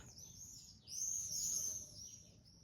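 Small birds chirp outdoors, faint high tweets and a soft trill that swells briefly in the middle, heard alone over a quiet background.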